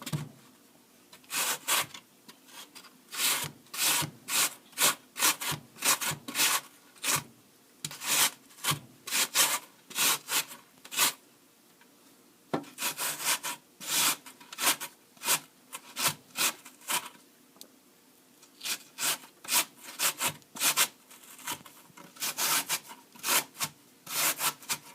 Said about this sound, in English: So we're gonna have here is your potato, peeled and fresh. You want to grate it out.